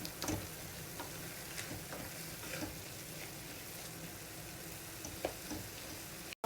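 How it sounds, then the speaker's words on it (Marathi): Chopped tomato fries steadily in a pan for Maharashtrian thecha, a continuous close sizzle broken by occasional light ticks of stirring. "आता हे असं आपण खमंग असं तळून घेऊया इथे, जोपर्यंत हा टोमॅटो असा पूर्णपणे शिजत नाही"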